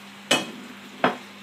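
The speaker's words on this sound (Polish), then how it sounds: "Smażymy to około" Chicken breast sizzles in a hot pan with chili, a soft steady frying hiss broken by two sharp stirring scrapes about a second apart.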